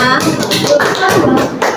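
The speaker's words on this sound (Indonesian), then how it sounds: "Tepuk tangan untuk kelompok 2 ya" Classroom clapping for a student group rings out close and loud, mixed with overlapping voices and chatter from pupils and a teacher.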